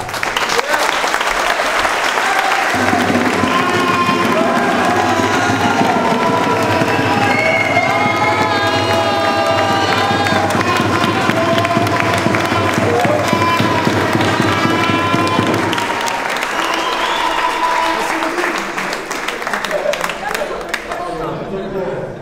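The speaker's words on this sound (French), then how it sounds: "Je crois qu'on peut l'applaudir parce qu'on le leur doit." A crowd at a reception for the Limoux XIII rugby league team after the 2022 French championship final claps and cheers loudly and steadily for about twenty seconds, with whistles and shouts over the dense applause.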